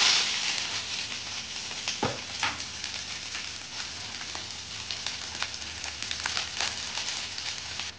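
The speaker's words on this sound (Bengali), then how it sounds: "এদিকে তেলটা গরম হয়ে গেছে, এবার আমি দিয়ে দেবো এর মধ্যে কেটে রাখা পেঁয়াজটা" Chopped onion fries in hot oil, giving a loud, continuous sizzle with dense crackling and a few sharper pops, heard alone and close up.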